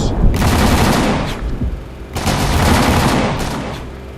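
Rapid, loud shotgun blasts in the video game MAV, fired in two dense volleys with a short gap between them.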